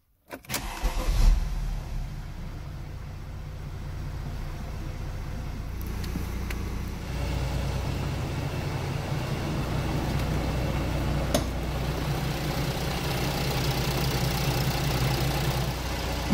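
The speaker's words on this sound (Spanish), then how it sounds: "Cogemos la llave. Y arrancamos el motor." A Mercedes-Benz OM642 V6 diesel engine cranks and catches with a loud burst, then settles into a steady, close idle hum that runs evenly to the end without talk.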